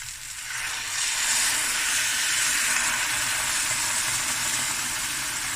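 A pot of lamb shank akhni comes to a boil, giving off a steady, fairly loud steamy hiss that holds evenly throughout with no talking.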